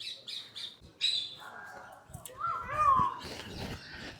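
Birds calling at Puthur zoo in Thrissur, Kerala, a designer zoo: a string of squawks and chirps, some harsh and some whistled, rising and falling at moderate distance, with people talking faintly underneath.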